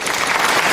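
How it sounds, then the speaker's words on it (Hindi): A group in a park claps for a contest winner in a short, dense burst of applause that is loud and close. "इनके लिए तालियां।"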